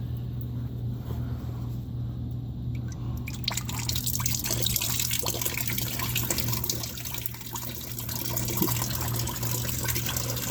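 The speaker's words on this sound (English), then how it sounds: "Here we go, draining the antifreeze." Antifreeze drains from a Ford Ranger's cooling system into a bucket, a steady nearby trickle and splatter of liquid that starts a few seconds in and continues under a low engine-bay hum.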